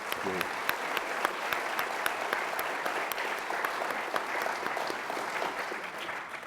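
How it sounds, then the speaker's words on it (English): Sustained audience applause for a panel at a policy discussion, steady, even clapping that fills the room at moderate loudness for several seconds with no break. "Let's give another round of applause, though, to this astute panel and all the great work they do"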